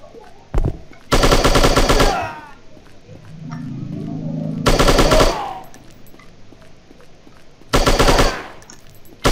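Bursts of automatic gunfire from a shooting video game, three loud rapid-fire volleys separated by quieter stretches with game sounds in between.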